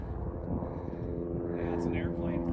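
An airplane towing a glider drones steadily overhead on a hiking trail, a low continuous engine hum, with people talking over it.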